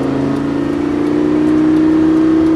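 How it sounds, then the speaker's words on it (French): Lamborghini Gallardo accelerating hard at full throttle on a circuit at La Ferté-Gaucher, a loud steady engine roar rising in pitch over a couple of seconds, heard from on board with no talk. "Et on reprend les gaz, de plus en plus. Et à fond."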